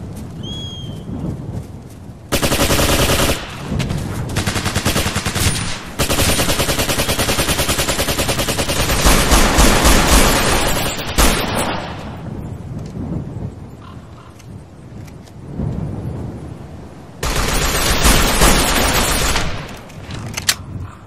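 Gunfire in the video game Operation Flashpoint: Dragon Rising, loud sustained bursts of automatic fire in several long stretches with brief lulls between, heavy and booming, no talk.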